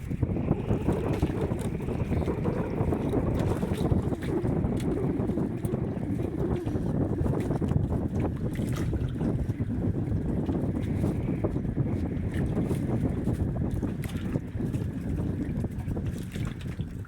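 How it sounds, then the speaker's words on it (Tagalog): Strong amihan monsoon wind blows steadily at sea aboard a small boat, a loud continuous rushing roar with gusty buffeting against the microphone, no talking over it. "Hangin mga idol, hangin, amihan."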